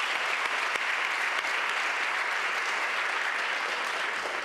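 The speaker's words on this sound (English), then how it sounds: "Again, that's a round of applause" A crowd gives a steady, dense round of applause at a school district's state of the schools address, with even clapping that holds throughout at moderate volume.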